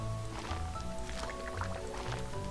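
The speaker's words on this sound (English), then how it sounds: "I'm just gonna preemptively come down here and grab water." Watering can being refilled with water in Stardew Valley, soft liquid gurgling and dripping splashes in short bursts over background music, fairly quiet.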